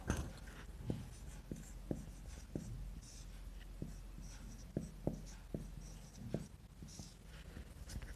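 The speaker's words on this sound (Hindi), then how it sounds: "थोड़ा ढंग से लिख लेती हूँ" A pen or chalk writes out a chemistry lesson in soft, quiet strokes and taps that come at irregular short intervals against a faint background hiss.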